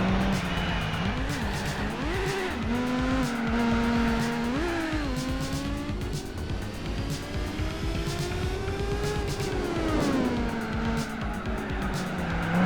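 A race car in Gran Turismo 4 drives continuously, its engine tone climbing and dropping through gear changes, with tire squeal over a steady loud drone and no voices.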